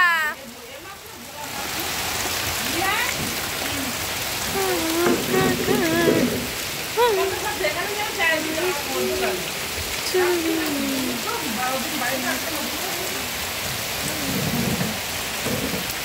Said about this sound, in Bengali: বাবা রে বাবা কি বৃষ্টি, সব ভেসে যাবে এবার আমাদের এখানে।